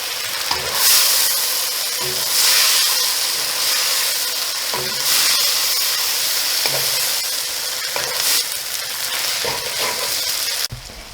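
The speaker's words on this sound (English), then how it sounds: "And our stir fry is ready." Pre-cooked Indomie noodles stir-fried in a pan, a loud, continuous close sizzle with repeated scraping and tossing strokes throughout and a sharp clank near the end.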